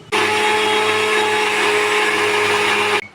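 A blender grinds onion, tomato, ginger and garlic into a fine paste, a steady loud whirring motor drone running about three seconds and cutting off abruptly, with no talk.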